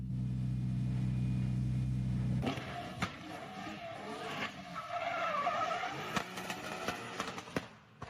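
A drift car skids through a ride at the Baltic Drift Cup, heard from on board: a loud steady engine drone gives way to rough tire scrubbing, rumbling and sharp knocks, close and continuous.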